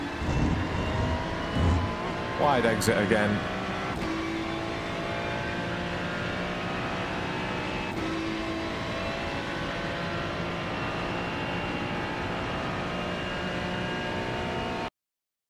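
A Ferrari 296 GT3 at Monza in iRacing holds a steady, loud engine drone as it climbs back to full throttle, with a brief higher rev burst early on and a voice talking over it.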